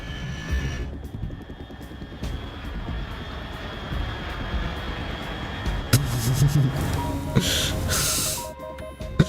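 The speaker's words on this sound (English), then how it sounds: "Unidentified aircraft detected." Aircraft engine droning overhead in the video game Metal Gear Solid 3, a steady mid-loud roar that swells slightly toward the end, with no talk.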